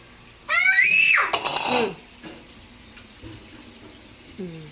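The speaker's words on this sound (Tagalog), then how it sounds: "Patay mo na yung gripo, sayang yung tubig." Water gushes loudly from a kitchen tap for about a second and a half, then cuts off, leaving quiet room noise with a faint voice.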